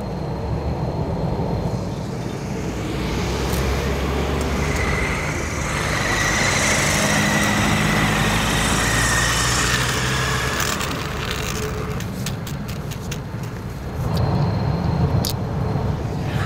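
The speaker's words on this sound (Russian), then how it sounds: "только слышишь, как гудят машины" Steady, fairly loud hum of cars and engines on a road in Naryan-Mar, a continuous roadside wash of traffic with no voices.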